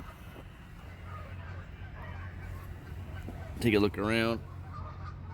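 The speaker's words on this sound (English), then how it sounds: "the geese, if you can hear them, are kind of going a little haywire" Geese honk in a brief, loud burst of two overlapping calls near the end, rising over steady low engine rumble and outdoor background noise, with someone speaking briefly earlier.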